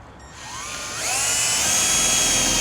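A cordless drill drives a self-tapping screw with a T25 Torx bit into a Ford Transit rear door, its motor whining up in pitch and settling into a loud, steady high buzz.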